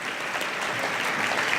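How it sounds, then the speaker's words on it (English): A crowd at a community schools national forum opening performance gives a round of applause for a director, a brief, even burst of many hands clapping at close, steady volume. "a special round of applause for Dimitri Seals"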